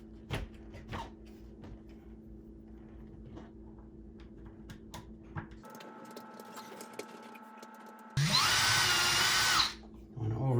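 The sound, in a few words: power drill drilling pilot hole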